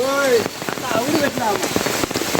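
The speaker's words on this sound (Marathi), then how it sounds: "लय पाऊस जास्त आहे ना" Heavy monsoon rain pouring down in the Konkan countryside, a loud dense hiss of drops on surfaces with a voice speaking over it throughout.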